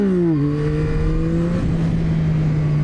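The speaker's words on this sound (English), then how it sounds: "just watch how much throttle I give it, how quickly I dump the clutch, watch the RPMs" Yamaha MT motorcycle engine revving during a wheelie, a loud steady drone whose pitch drops then holds, heard close with wind noise.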